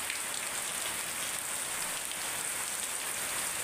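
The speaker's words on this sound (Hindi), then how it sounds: "लो भाई ये देखो, कितनी बारिश हो रही है, देखो बहुत ही बढ़िया बारिश हो रही है" Heavy rain pours down steadily as an even, dense hiss of drops striking surfaces, loud and unbroken for the whole stretch with no voices.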